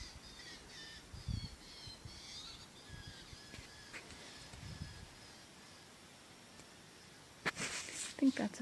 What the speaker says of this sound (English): I think that's a family of blue jays.